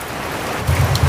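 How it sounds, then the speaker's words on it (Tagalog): Heavy rain at night in the Philippines, a dense, steady roar of drops on surfaces, fairly loud and unbroken, with a low rumble growing toward the end and no speech. "sobrang lakas ng ulan"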